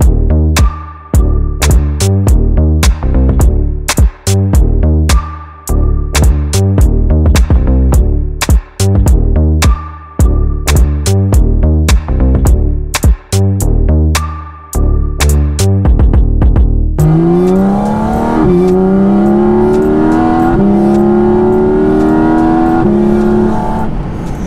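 A Porsche Cayman GT4 RS with a 500 hp engine runs hard on a track, loud and close: a quick series of sharp rev blips and gear changes for about sixteen seconds, then a sustained rising howl as it accelerates.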